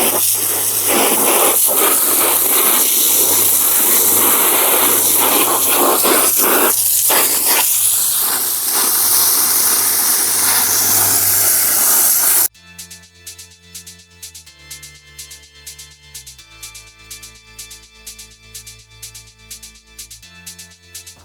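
Water from a spray nozzle on its jet setting hisses steadily against a dry bag for about twelve seconds, loud and close, before giving way to rhythmic music.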